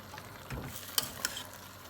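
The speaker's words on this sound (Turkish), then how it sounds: "Fasulyeleri ilave ettim. Şimdilik karıştırıyorum sosuyla beraber." A spoon stirring dried beans into a minced meat and onion sauce in a pot, a faint brief scrape and a couple of light clinks over low background noise.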